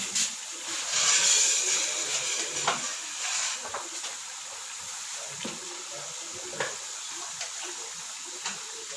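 Beef trotters for Pakistani-style paya go into hot ghee and masala in a pot, with soft sizzling and occasional stirring clicks and scrapes at a low, steady level.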